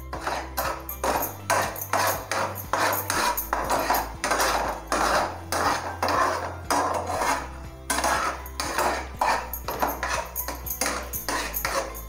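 A spoon stirs mutton masala in a pot while it browns in ghee, scraping and clinking against the metal in a steady, rapid, close rhythm throughout.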